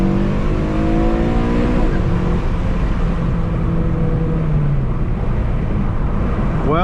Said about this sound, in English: this car may not be fast, but it sure sounds good for a 4-cylinder.